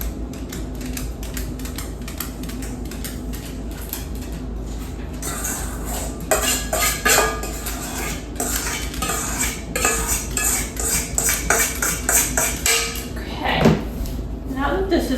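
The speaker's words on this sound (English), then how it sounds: "gonna mix in the flour and the chocolate chips" Brownie batter being stirred with flour and chocolate chips in a bowl for peanut butter brownies: repeated clinks and scrapes of a utensil against the bowl, growing busier and louder partway through, with a voice speaking along.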